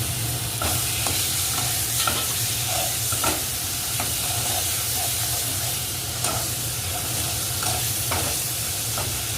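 Onion paste frying in hot oil sizzles continuously, with repeated scraping and stirring sounds at irregular intervals, close and fairly loud.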